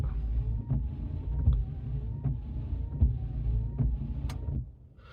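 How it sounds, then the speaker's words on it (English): MG ZS windscreen wipers sweep back and forth in a steady rhythm, each pass ending in a soft thump, with a weird, graunchy sound over a low engine hum. "I will say the wipers sound a bit weird as well."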